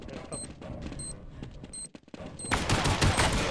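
Counter-Strike 1.6 gunfire on the de_nuke map: clipped bursts of shots under game sounds, a brief drop, then a loud dense volley of fire.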